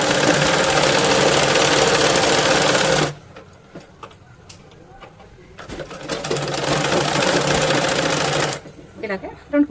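A sewing machine stitches a seam on a baby top in two loud, fast, rattling bursts separated by a quieter pause with small handling noises.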